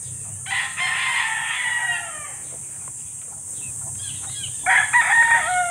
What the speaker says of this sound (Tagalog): Vlog ko muna yung mga manok.